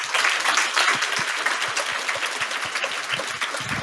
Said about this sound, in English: please join me to give a warmest applause to our 5 panelists.